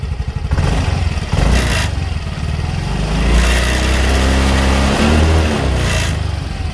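A 2019 Freego 125cc scooter engine revs up repeatedly, rising and falling in pitch with rattling mechanical clatter, close and loud, with no voices.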